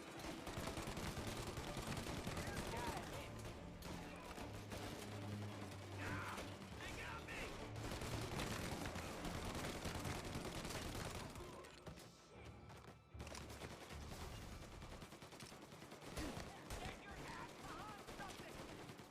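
Sustained in-game gunfire in Mafia Definitive Edition, dense overlapping shots and mechanical clatter filling a loud firefight, with a brief lull near the end, while voices shout over the action.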